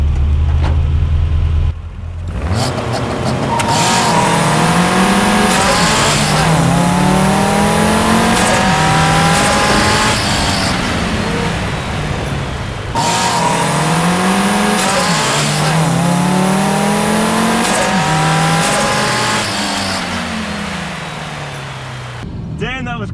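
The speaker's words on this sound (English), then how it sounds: "I did a massive skid off the line that I didn't mean to do." A loud MR2 race car engine revs hard and climbs through gears, tires squealing as it skids off the line, then drops back and accelerates again.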